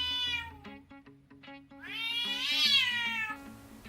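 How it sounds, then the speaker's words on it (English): Cats meow in a string of drawn-out, rising and falling calls, one clear meow after a brief pause followed by a louder, longer wailing meow close up, with no talk. "It's just a bunch of cats."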